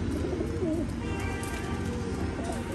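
Golden pigeons coo softly nearby, low throaty calls repeating a few times over a faint background.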